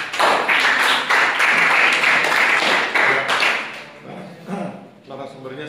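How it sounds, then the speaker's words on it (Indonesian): Audience applause at an Indonesian university rural sociology class session, dense steady clapping for about four seconds that thins out and fades, followed by softer talking. "Oke, aplaus."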